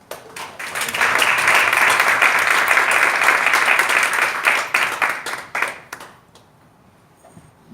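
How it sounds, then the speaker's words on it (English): Audience applause at a community event in Arizona, starting with scattered claps, swelling into dense clapping from many hands, then thinning into a few separate claps before fading to near quiet. "give them a round of applause right now"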